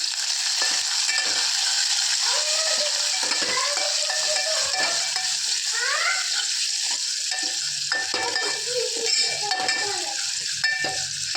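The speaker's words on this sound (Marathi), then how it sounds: "कांदा भाजायला ठेवला आहे" Onion frying in a pan with tomato added for a Marathi moong vegetable dish, a continuous loud sizzle with the occasional stir and scrape of the spoon, and no talking.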